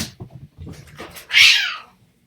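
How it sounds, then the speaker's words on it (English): Cats fight indoors in a house, low growling yowls building into one loud, piercing caterwaul that fades out, with no talk over it. "I have warring cats, right? And that's what you just heard."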